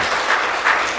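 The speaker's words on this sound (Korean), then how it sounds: "박수로 환영하겠습니다." A church congregation at a Sunday service applauding to welcome a newly registered family: a brief, steady wash of many hands clapping together.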